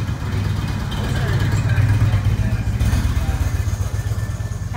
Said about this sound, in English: bicycle and motorcycle traffic this morning